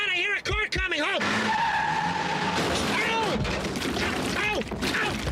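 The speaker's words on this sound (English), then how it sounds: "Oh, my God, I hear a car coming." A car skids in with screeching tires and a rising roar as it approaches, a loud sound effect during a livestreamed morning show skit, with excited voices over it.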